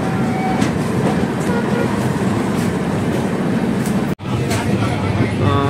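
Tinsukia–Bengaluru Express pulling out of Dibrugarh station, a steady loud rumble of the moving train with faint rail clatter, cut by a brief dropout near the end and background voices.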